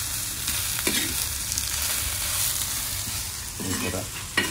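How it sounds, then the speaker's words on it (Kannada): Small pieces of okra frying in oil hiss and crackle continuously up close, with occasional scraping stirs of a spatula cutting through the sizzle. "ಬೆಂಡೆ ಈ ರೀತಿಯಲ್ಲಿ ಫ್ರೈ ಮಾಡಿಯೇ ನೀವು"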